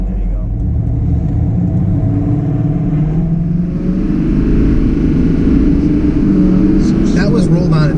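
A Duramax LML diesel pickup truck with its emissions equipment deleted accelerates hard from about 60 mph, its deep engine and exhaust roar sustained and building throughout, heard from inside the cab with voices talking over it.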